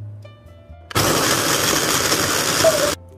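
A blender roars loudly for about two seconds, finely grinding ice for a cold beef mulhoe broth with a dense, harsh whir, then cuts off abruptly.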